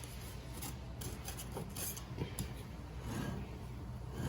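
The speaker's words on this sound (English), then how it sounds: "Now I'm gonna take a offset spatula or a palette knife, and I'm going to just loosen the edge." An offset spatula or palette knife scrapes around the edge of a freshly baked angel food cake in its pan, a faint close rubbing and scraping with scattered light clicks and no talk.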